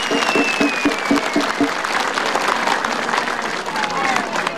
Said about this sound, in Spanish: para ello pido fuertes aplausos